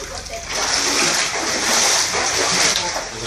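Water splashes and sloshes inside a flooded house as people bail it out with buckets, a loud continuous churning splatter with surges, and voices are faintly audible underneath.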